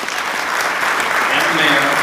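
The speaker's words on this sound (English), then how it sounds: "Let's give applause to the chief" An audience applauds for a police chief of the Chaska Police Department, with thick, even clapping that swells slightly as it goes and a voice faintly heard beneath.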